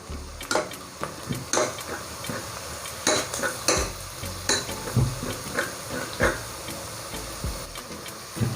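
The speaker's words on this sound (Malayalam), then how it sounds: "ഇനി നമുക്കിതിലേക്ക് ആ മഞ്ഞൾപ്പൊടിയും അതുപോലെ മുളക് പൊടിയും ഇട്ട് ചെറുതായിട്ടൊന്ന് വഴറ്റാം" Turmeric and chilli powder sautéing in a pan for a brinjal-potato curry, a utensil scraping and clinking against the metal in irregular strokes over a low sizzle, close and fairly loud.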